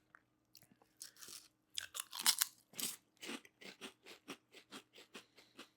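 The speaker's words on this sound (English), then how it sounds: "Good crunch." Crisp, close crunching and chewing of a flavored snack, a rapid series of sharp bites and chews in an irregular rhythm, clear and alone with no talking.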